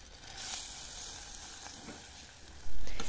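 Butter and wheat flour cooking together in a saucepan for béchamel, a soft continuous sizzle and hiss with faint stirring scrapes, ending in a louder bump.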